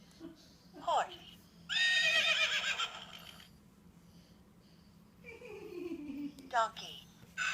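A child imitates a horse neighing with a long, shrill, trembling whinny, then a second shorter whinny, close and fairly quiet, with brief bits of voice around them.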